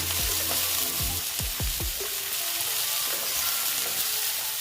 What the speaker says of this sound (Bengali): আমার আলু আর পেঁয়াজ তো মোটামুটি ভাজা হয়ে গেছে বেগুনটা পরে দিলাম